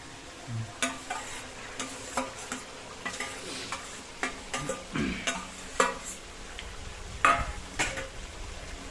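A paste of onion, garlic, ginger, black pepper and green chilli fries with country chicken in a pan, soft sizzling under repeated stirring and scraping strokes at a close, steady rhythm.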